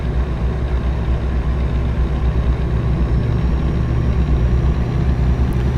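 Volvo truck engine in American Truck Simulator, hauling cars toward The Dalles, a loud steady low diesel drone humming continuously without any voices.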